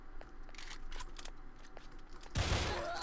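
Gunfire in the blocky shooter Brick-Force: a handful of quick, sharp shots early on, then a loud, dense burst of automatic fire that continues to the end.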